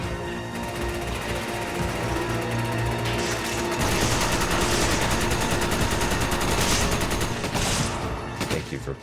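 Rapid automatic gunfire crackles from Resident Evil 5 gameplay, dense sustained bursts over a steady game soundtrack, growing louder partway through and continuing nearly to the end.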